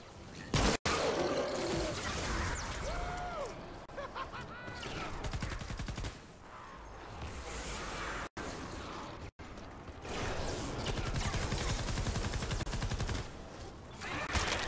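A defensive turret in Fortnite Save the World fires long rattling bursts of automatic gunfire, dense and continuous with brief gaps, mixed with other game effects at a steady, moderate level.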